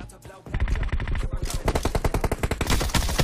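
Rapid automatic gunfire crackles in PUBG Mobile, dense bursts of close, loud shots fired in quick succession with brief gaps, almost continuous across the moment.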